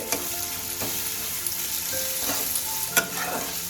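Chopped tomato with green chilli fries in a pan for a lote fish jhuro, a steady close sizzle punctuated by a few scraping stirs of the spatula.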